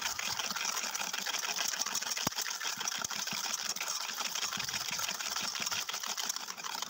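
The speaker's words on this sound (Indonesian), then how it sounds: "ini kita kocok sampai gulanya larut ya" Electric hand mixer beating granulated sugar with two eggs in a bowl, a steady whirring motor hum with faint rattling of the beaters, continuous and moderately quiet, no voices.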